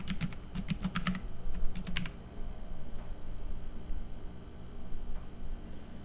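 Quick clusters of computer keyboard keystrokes, near and crisp, in the first two seconds, followed by steady background hum with only a few scattered faint clicks.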